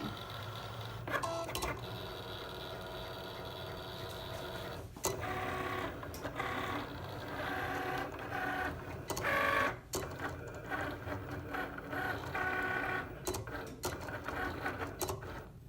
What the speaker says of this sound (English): To cut our metallic, we can go ahead and click the Cricut Go button.